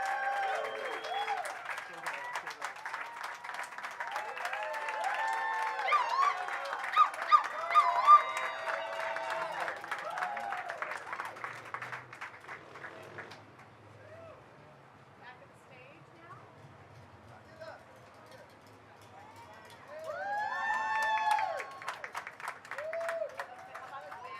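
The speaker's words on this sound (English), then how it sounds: "Give her a round of applause." A crowd at a Hollywood Walk of Fame ceremony applauds and cheers loudly for several seconds, the clapping fading to quieter scattered claps before swelling again near the end, with voices mixed in.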